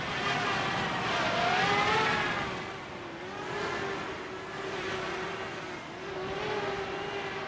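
A DJI Mavic Mini drone hovers and descends toward a landing pad outdoors in wind, giving a steady high-pitched propeller whine with shifting tone that rises and falls over the whole span, moderately loud and close.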